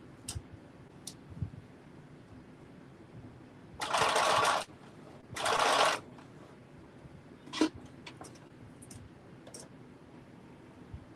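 A home sewing machine stitches over the edge of a bucket hat cap in two loud bursts of about a second each, with faint taps and clicks of handling between and after.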